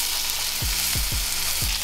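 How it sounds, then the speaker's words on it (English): Tomahawk elk steak searing on a hot cast iron skillet, a loud dense sizzle broken by several low thumps, with no voices. "our cast iron is ready and our tomahawk is going right on"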